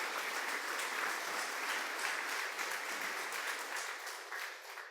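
A church congregation breaks into sustained applause during a sermon, a thick, even roar of many hands clapping that holds steady for several seconds and eases slightly near the end.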